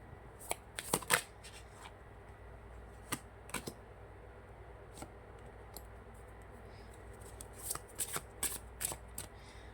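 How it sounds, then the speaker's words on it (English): A deck of tarot cards is shuffled by hand in bursts of crisp riffling and flicking, with quieter pauses between the flurries, close up and fairly soft against a faint steady background hum. "So I'll be shuffling the cards out first on camera."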